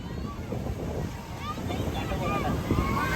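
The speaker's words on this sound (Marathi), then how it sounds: "आणि या लाटा बघा" Sea waves break and wash along the shore in a continuous roar, with wind buffeting the microphone and faint voices in the background.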